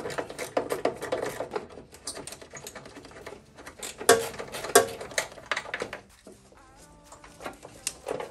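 A 10 mm wrench works a bolt on a Mazda Miata's radiator area, giving a run of close, quick metallic clicks and ratcheting taps, with some louder clanks and a quieter stretch near the end.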